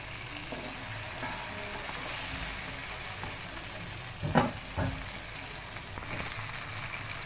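Flour-coated chicken pieces fry in hot oil with a steady low sizzle throughout, broken by a couple of brief louder clatters near the middle; no one speaks.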